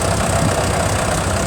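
A 1990 International 816 tractor runs at a steam rally parade, its engine a loud, steady close-range drone with a rough, even throb and no voices over it.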